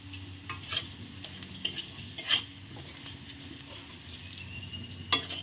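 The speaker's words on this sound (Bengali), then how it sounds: "তো এর মধ্যে আমি দিয়ে দেব ফোড়নের জন্য সামান্য পরিমাণে সাদা জিরা," Cumin seeds sizzle in a little hot oil for tempering, a steady soft frying hiss with a few brief clinks and stirring scrapes of utensils against the pan, no talking.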